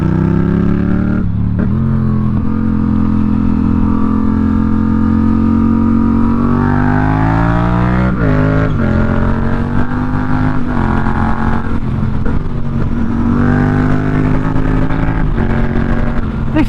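A Yamaha MT07 motorcycle engine runs steadily while being ridden along a hilly mountain pass road. The drone is loud and continuous, its pitch rising and falling as the rider shifts and accelerates, with wind noise in the background.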